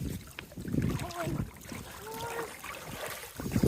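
Paddles splash and dip at an irregular pace from an inflatable kayak on a river, with flowing river sounds and faint voices nearby.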